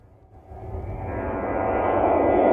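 Airplane rolling up the runway on its takeoff run. Its engine roar builds from a faint rumble into a loud, steady whoosh over a couple of seconds.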